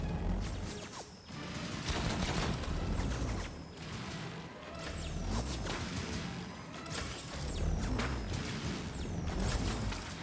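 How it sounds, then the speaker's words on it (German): Enemy gunfire in the video game Outcast: A New Beginning, shots whizzing and zipping past in rapid irregular bursts, with sharp cracks and impacts over a dense mechanical game soundscape. "ich mag die Sounds, dass die Schüsse so an mir vorbei surren."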